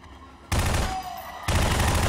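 Gunfire in a Prop Hunt round of a first-person shooter game, played live at RTX Australia 2016: two sudden loud bursts of rapid automatic fire that fill the clip, close and dense with no voices over them.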